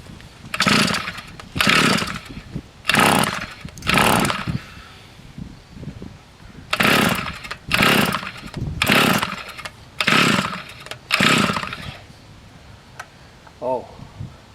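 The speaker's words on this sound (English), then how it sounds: "let's see if it sputters over now" A small gas engine on a Toro TC4000 string trimmer repeatedly catches and sputters in short bursts of roughly a second each, with brief lulls between, close and fairly loud.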